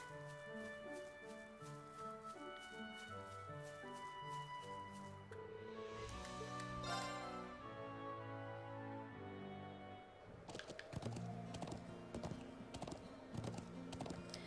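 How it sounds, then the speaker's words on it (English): Horse hoofbeats in the video game Legend of Heroes: Trails of Cold Steel, a steady clip-clop of riding that plays under a continuous layer of game music, with a busier stretch of sound near the end. "a very, very, very long horse ride is commencing"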